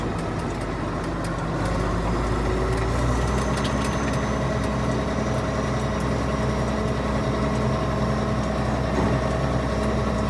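A Case 2870 tractor drives across a field in second gear on its power shift, its engine a loud, continuous low drone with no break and no voices.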